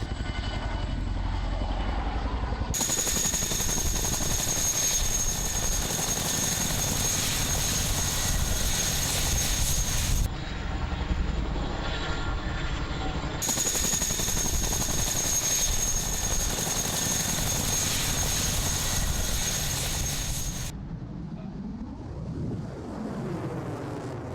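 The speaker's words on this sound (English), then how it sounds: "It's very stable, excellent aircraft for flying and even displaying." Aircraft flying at an RAF air display, a steady loud engine drone holding throughout with a high whine cutting in and out, fading away toward the end.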